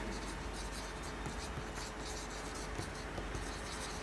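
Numbers and words are written on a board during a maths lesson on decimals, making faint, continuous scratchy strokes with a few small taps of the writing tool.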